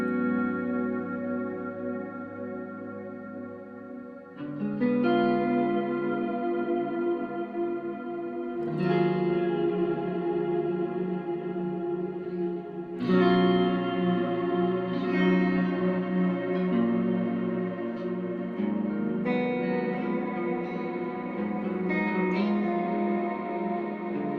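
Guitar notes through a Friedman pedalboard swell and sustain in a thick, spacey wash of reverb and echoing delay, each new chord blooming over the fading tail of the last.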